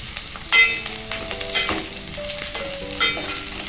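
Cabbage sizzles as it fries in a pan for curry, a steady moderate crackle broken by a few stirring clatters, with no one talking.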